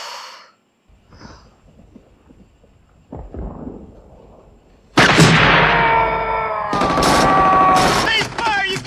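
Bursts of movie machine-gun fire from the Full Metal Jacket sniper scene, starting after quiet breathing and faint sounds, then loud sustained rattling volleys with a brief break, close and dominant.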